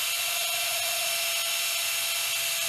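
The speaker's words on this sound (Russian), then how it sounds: "Теперь сверлышком двоечкой максимально в край буду пробовать сверлить отверстие." A small 2 mm drill bit bores a hole close to the edge of a part from an old gas torch, giving a faint, steady thin whine with a soft grinding hiss throughout.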